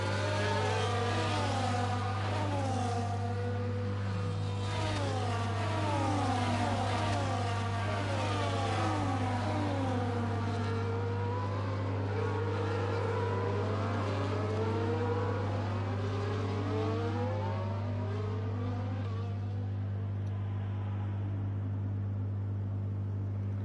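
Race cars lapping Imola in a racing video game: several engines rev and shift, overlapping as they pass and fade, a steady loud drone with no talk.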